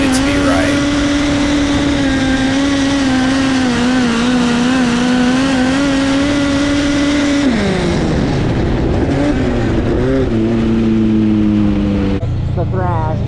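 A USAC National Midget race car drives on a track during qualifying, its engine holding a loud, steady high drone that then drops and wavers as it slows and shifts near the end. Someone talks over it throughout.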